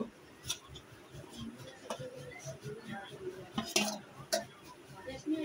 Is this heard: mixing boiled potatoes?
yes